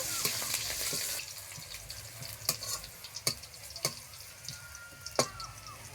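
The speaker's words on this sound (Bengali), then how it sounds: "তেল আমার গরম হয়ে গেছে এখন আমি কিছুটা রসুন থেতো করে রেখেছি রসুনটাকে একটু ভেজে নেব" Crushed garlic frying in hot oil: a brisk hiss that fades after the first second into a softer sizzle, broken by several sharp scraping stirs or taps of a utensil, close up and without talk.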